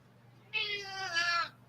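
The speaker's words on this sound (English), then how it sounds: "Oh, meow." A cat meows once, a drawn-out, wavering call lasting about a second, close and clear over a quiet room with a low background hum.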